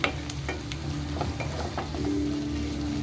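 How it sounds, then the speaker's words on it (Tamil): Onion with ginger and garlic sautés in a pan, sizzling steadily up close while a utensil scrapes and stirs in scattered strokes, with no talking. "இந்த இஞ்சி பூண்டு பேஸ்ட்டு போட்டுட்டு நல்லா வதக்கி விடுங்க"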